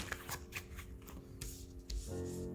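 Tarot cards shuffled by hand during a pick-a-card reading, with soft rapid riffling and slapping under a low steady hum, fairly faint and close.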